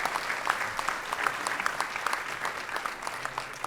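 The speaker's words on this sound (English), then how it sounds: "Can we give them another round of applause?" Audience applause at an awards ceremony, a steady dense wash of clapping from a sizable crowd held at an even level throughout, with no talk over it.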